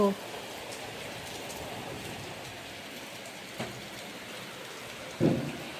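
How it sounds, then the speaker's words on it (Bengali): Heavy rain pours down in a continuous loud rush, with a couple of brief thumps and a clatter near the end and no clear speech. "বৃষ্টিটা হচ্ছে দারুণ বৃষ্টি হচ্ছে"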